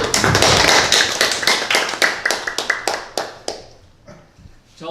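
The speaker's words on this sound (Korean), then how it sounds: "박수." A classroom of students claps together, with crisp, sharp claps close by. The claps start fast and dense, then thin out into scattered slower claps that fade away.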